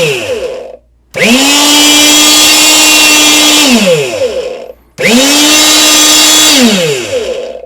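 An Anbull 1300W electric hydraulic rebar cutter runs through two full cycles, each a loud, close motor whine that rises, holds steady, then winds down in pitch, separated by a brief silence.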